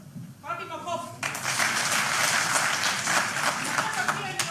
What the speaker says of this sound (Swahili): Wapi makofi?